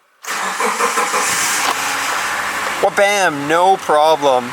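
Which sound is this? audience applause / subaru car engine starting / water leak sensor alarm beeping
subaru car engine starting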